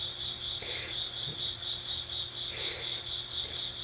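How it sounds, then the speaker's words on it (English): Crickets chirp steadily in a continuous high trill, with a few brief louder bursts, during a quiet outdoor guided meditation setting with no talking. "Thank you, Ajahn Crickets."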